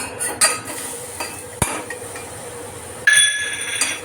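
Pineapple pieces stirred in hot ghee in a metal pan for pineapple sheera, with a few sharp spoon clinks and scrapes against the pan, close and fairly clear with no talking.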